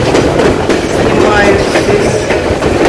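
Railway cars on the Skagway, Alaska line clatter loudly and steadily while rolling along the track, a continuous close rumble with someone talking briefly over it.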